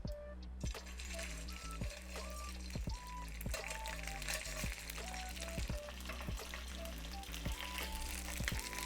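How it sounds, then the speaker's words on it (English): Rice squares fry in hot oil in a pan, giving a soft, continuous sizzle with frequent small pops and bubbling crackles at low volume. "We're going to carefully drop in our rice square. So I'm gonna add it to my pan now that the oil is hot."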